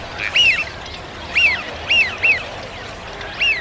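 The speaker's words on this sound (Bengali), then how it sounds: "শীতে এ অঞ্চল ভরে ওঠে উড়ে আসা লাখো পাখিদের কলকাকলিতে" Repeated honking calls of migratory birds ring out in short bursts, several birds calling one after another over a quiet background.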